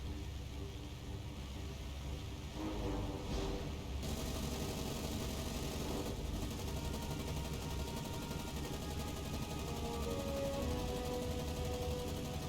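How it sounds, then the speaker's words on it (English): Continuous naval gunfire during a World War II sea battle in the game War on the Sea, a dense steady rattle of automatic weapons under rumbling engine noise throughout. "I hear a lot of gunfire, but don't see any shells coming out."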